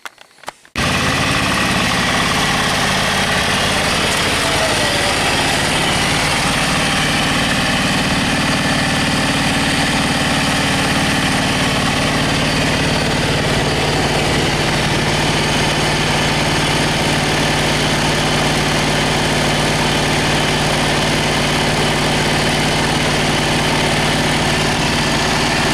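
A John Deere GX355 lawn tractor engine idles steadily at close range, a continuous even rumble with a low hum that holds throughout after a brief start, with no talking over it.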